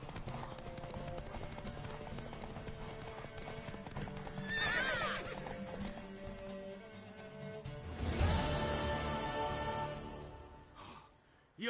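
Hooves clip-clop steadily in The Witcher 3 while a horse whinnies loudly twice, with snorts and breathy sounds in between, all close up.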